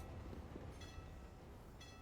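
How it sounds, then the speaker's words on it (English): A train rumbles past on the Overpass map in Counter-Strike, a very faint low rolling rumble with a few high metallic squeal-like tones rising briefly twice, no voices. "Train goes past."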